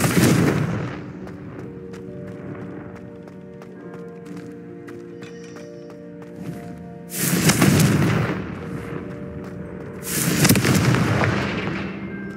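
Confringo fire spell explosions in the Hogwarts Legacy video game, two loud booming bursts a few seconds apart over continuous game music and ambience, with no talk.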